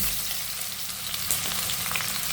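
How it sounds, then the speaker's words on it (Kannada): Mustard seeds and onion frying in hot oil give a steady, soft sizzle with faint crackling pops, continuous and close, without voices. "ಎಣ್ಣೆ ಕಾದಿದೆ, ಸಾಸಿವೆ ಹಾಕೋಣ, ಸ್ವಲ್ಪ ಈರುಳ್ಳಿ ಹಾಕ್ತಾಯಿದ್ದೀನಿ"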